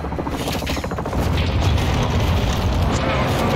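A tower collapsing after being shot in Call of Duty Modern Warfare 2, a dense rumbling, crashing roar of debris with booming low end, continuous and loud, with faint voices underneath.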